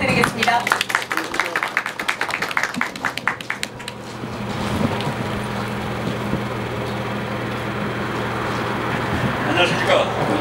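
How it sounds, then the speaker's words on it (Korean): Scattered applause from an outdoor audience at a highway snow-removal readiness drill, lasting about four seconds before fading under a steady, idling engine drone that continues to the end. "박수 부탁드리겠습니다."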